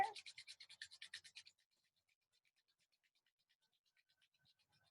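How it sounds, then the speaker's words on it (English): Two hands rubbed briskly together to build warmth: about a dozen quick, even scratchy strokes, close and distinct, then near-silence. "Begin to rub the hands together, generate some warmth, maybe a little faster."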